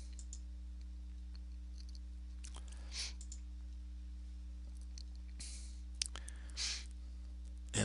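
A few faint computer mouse clicks while posting an entry in Microsoft Dynamics GP, sparse soft taps spread over a steady electrical hum.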